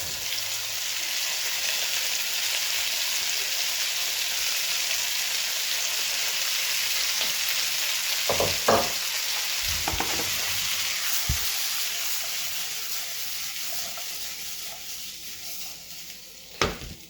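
Onions fry in a pan with a steady, close sizzle that hisses on without a break, broken by a few brief clatters of stirring.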